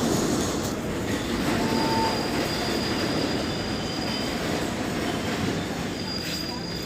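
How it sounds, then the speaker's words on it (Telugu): A train at Renigunta railway station at dawn, a continuous rumbling roll of railcars with faint wheel squeal and clatter, steady and fairly loud. "రేణుగుంట రైల్వే స్టేషన్లో ఉన్నాను."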